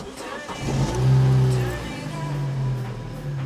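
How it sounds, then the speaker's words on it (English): A £400 hot hatch track car with new spark plugs and a new air filter starts up, its engine catching and revving loudly once before settling into a steady idle rumble nearby. "the first thing we need to do is get the engine flipped on and warmed up"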